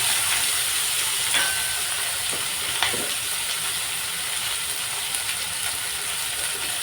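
Whole spices, dried chillies, cashews, ginger, garlic and green chilli sautéing in a pan for butter paneer, a steady close hiss of frying with faint scattered crackles and pops, no talking.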